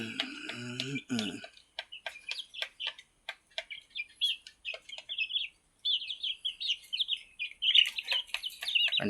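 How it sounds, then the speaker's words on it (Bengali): Young desi chicks on a home poultry farm chirp and peep in quick, irregular bursts while feeding, with a brief low clucking near the start and the high calls continuing close and steady through the clip. "মুরগির বাচ্চাগুলো খাওয়া দাওয়া করতেছে এখন।"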